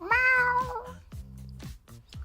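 An actress's voice imitates a cat meowing: a long, drawn-out, intense meow followed by several shorter, lower mewing calls, close and clear with no other talk.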